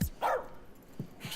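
A dog in a video game gives a few short barks and yips, one sharp bark followed by two quicker softer ones, fairly close, in a quiet scene.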